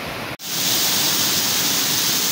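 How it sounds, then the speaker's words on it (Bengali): Steady broadband roar of water from Bamini Falls, loud and continuous, briefly cutting out for a moment near the start before resuming at full strength. "বামিনী ফলসের ঝর্ণার আওয়াজে আমার কথা শোনা যাবে কিনা জানি না।"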